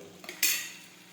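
A utensil scrapes and knocks against a pan of cooked-down tomatoes with spices, one brief stir followed by a soft sizzle that fades.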